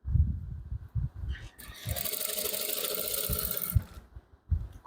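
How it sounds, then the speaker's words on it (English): A sewing machine stitches the base of a front pocket on men's shorts, a steady whirring run of about two seconds with light mechanical clicks and handling sounds before and after. "then you stitch the base."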